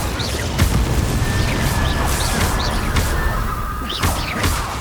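Incendio fire spell blasts in Hogwarts Legacy, loud booming bursts and crashes over continuous combat rumble, with several sharp impacts.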